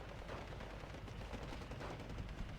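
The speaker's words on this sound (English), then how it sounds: "And the artillery from Solaufein now sort of peppering different areas of the map." Artillery and gunfire in a World War II strategy video game pitting Fallschirmjäger against grenadiers, a faint, steady rumble of distant shelling mixed with scattered small-arms fire, with no distinct individual shots standing out.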